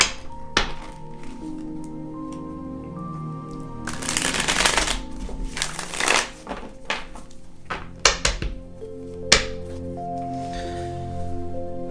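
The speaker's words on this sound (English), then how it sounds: "So right now I've shuffled the deck again." A tarot deck is shuffled by hand in soft, papery riffling bursts with a few thunks as it is squared, heard over a gentle sustained musical background.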